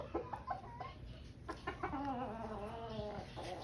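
A six-month-old bullstag rooster clucks close by in a short run of several throaty calls, with a sustained call toward the end.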